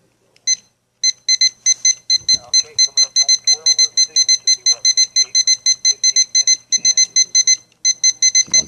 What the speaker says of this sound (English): let's set our timer here